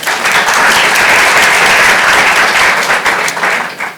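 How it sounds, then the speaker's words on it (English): Audience at a 2014 NYC Service Summit in New York applauds loudly and steadily, dense clapping filling the room for about four seconds before tapering slightly at the end. "Let's give her a round of applause."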